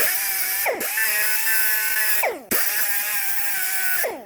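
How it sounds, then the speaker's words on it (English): An angle grinder cuts into a groove in a 2014 Toyota Venza wheel bearing, held at a 45-degree angle. It gives a loud, steady high-pitched whine in two long bursts, each winding down with a falling pitch, with no voices. "what I did was try to widen the channel by sticking the grinder in at a 45-degree angle"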